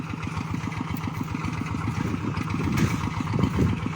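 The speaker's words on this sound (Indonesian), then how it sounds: "traktor, hand traktor" A hand tractor engine runs steadily while it ploughs a tidal rice paddy in a farming village. It makes a fast, even, thumping chug that sits close and loud and builds slightly toward the end, and no one speaks over it.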